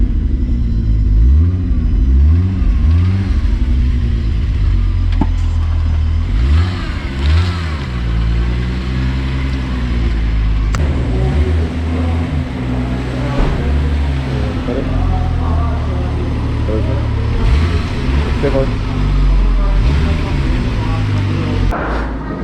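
A turbocharged VR6 engine in a wagon revs hard through repeated full-throttle pulls, its pitch climbing and falling in several sweeps over a constant loud drivetrain rumble, with people speaking faintly inside the car.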